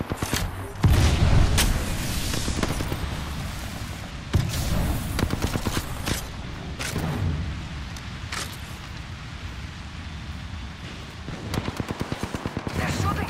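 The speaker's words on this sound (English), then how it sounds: "They're shooting at me." Dense in-game gunfire in Apex Legends, rapid automatic bursts and heavy booming shots, loud and continuous across the whole stretch, with voices talking at times over the shooting.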